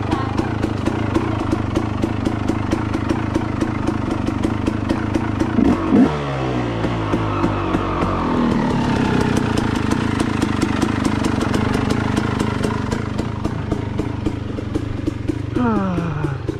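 A 250 motorcycle engine runs steadily throughout a ride, its low drone shifting in pitch around the middle as it revs up and eases off, with a voice talking over it.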